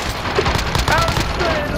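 Rapid, dense gunfire in a shooter video game, a brief continuous rattle of shots close and loud, mixed with a voice talking over it.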